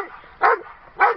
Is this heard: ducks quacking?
no